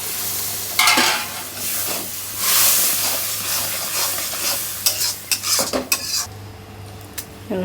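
A large load of meat sizzles in a big karahi while a metal spoon scrapes and clanks against the pan in repeated stirring strokes, loud and close, the frying hiss swelling and fading between bursts of scraping.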